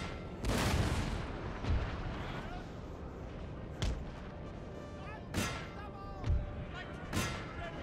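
Cannon and artillery fire in Napoleon: Total War, with several sharp booming shots spread out amid ongoing battle noise, with a voice talking over parts of it.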